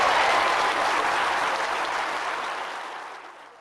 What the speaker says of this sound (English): that still sends goosebumps down my spine when I hear that cheer